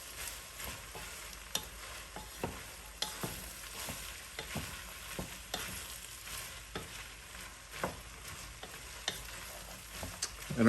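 Ground beef and vegetables frying in a pan for chili, a soft continuous sizzle with repeated sharp clicks and taps of stirring at an irregular rhythm, close and moderately quiet.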